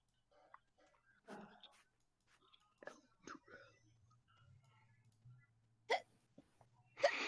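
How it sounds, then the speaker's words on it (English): A person hiccups a few times in a quiet room, the short sharp bursts spread apart amid soft whispering and faint background hum. "Man, Oh, goodness, hiccups."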